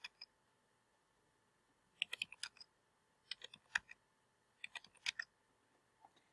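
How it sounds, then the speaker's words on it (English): Someone types on a computer keyboard while entering data in a spreadsheet: quiet, close clicks in short irregular bursts separated by pauses, with no talking. "So I can start typing the letter G and it will pop up."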